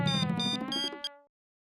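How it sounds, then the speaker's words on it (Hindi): A telephone rings with a tonal electronic ringtone, a few repeated melodic pulses at close range that cut off abruptly into silence. "सुंदर का फोन, बात कीजिए ना।"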